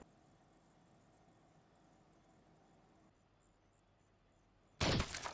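A gunshot goes off in the 2015 film Sicario: a faint, quiet hum with light chirping gives way to a sudden, loud, sharp blast near the end.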